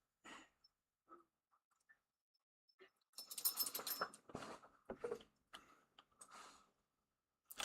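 A dog makes short, quiet, scattered whimpers and breathy sounds indoors, followed by a louder cluster of yips and barks, with gaps of silence between the bursts.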